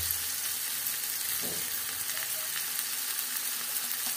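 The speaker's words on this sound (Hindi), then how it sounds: "अब डाल लेंगे इसमें टमाटर मिर्ची, अच्छे से भून लेंगे इसको।" Tomatoes, chillies and spices for a dosa potato filling fry in a pan with a steady, close sizzle. A brief stirring scrape comes partway through, and there is no talk.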